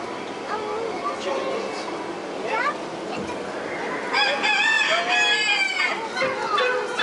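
A rooster crows repeatedly amid clucking fowl on a farm setting, loud and close, while people talk and background noise continues throughout.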